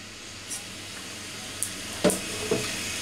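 Fennel and black mustard seeds sizzling in hot oil for a Kolkata tomato chutney, a faint steady frying hiss broken by a few sharp pops and clicks.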